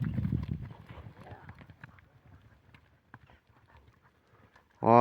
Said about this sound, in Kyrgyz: Ат өтө күлүк ат экен.